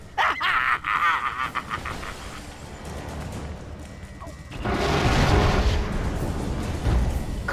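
A big explosion during a laboratory break-in in the Lego Marvel Super Heroes video game, a loud rumbling blast that swells midway and keeps roaring under game noise, with talk over the start.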